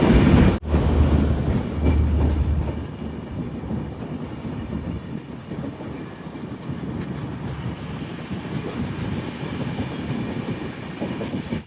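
Humsafar Express train rolling into Dharmanagar station in North Tripura, heard from inside as a steady close rumble with rhythmic wheel clatter and a sharp knock near the start, continuous and without voices.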